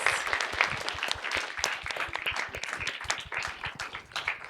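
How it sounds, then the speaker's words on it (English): Audience at a menstrual equity summit applauding a panel of speakers, a dense patter of many hands clapping at once, fairly soft and steady for several seconds. "give us a round of applause for our incredible panelists"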